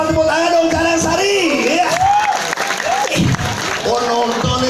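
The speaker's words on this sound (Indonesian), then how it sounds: "Tepuk tangan dong sarang sari." A crowd at a Balinese Calonarang performance claps and cheers, loud whoops and shouted voices over steady applause, close and lively throughout.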